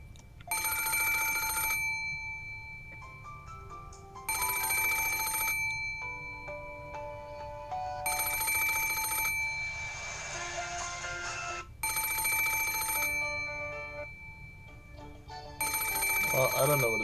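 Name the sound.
phone alarm sound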